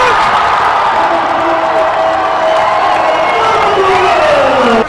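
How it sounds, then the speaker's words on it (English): A home crowd at a college basketball game, Fort Lewis at Adams State, roars with loud, sustained cheering and applause that swells and holds for several seconds, with scattered whoops rising above it. "you hear the applause"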